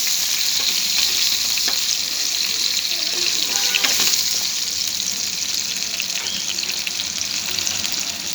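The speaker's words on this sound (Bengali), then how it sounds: "আমি হালকা একটা ভাজি দিয়ে নেব।" Potatoes fry lightly in a pan with a loud, continuous hissing sizzle that holds steady for several seconds, close up and free of talk.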